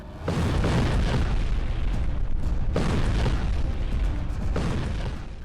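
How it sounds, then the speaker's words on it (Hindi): A huge explosion roars and rumbles continuously, loud and close, with a second surge of blast noise partway through. "कैसा धमाका, ऐसी तबाही"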